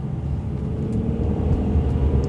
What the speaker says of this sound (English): It's a beautiful sounding engine, and honestly, it's the first 12-cylinder I've driven.